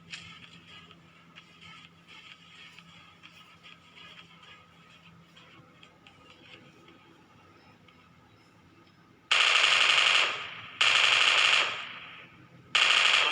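After a long quiet stretch of faint mechanical noise, loud bursts of rapid automatic gunfire from an M249 machine gun in PUBG Mobile erupt in three sustained volleys near the end.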